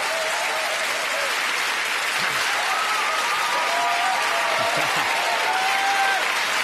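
A TV studio audience gives sustained, even applause to comedian Kevin Day at the end of his set, a loud unbroken roar of clapping with a few whistles and whoops over it.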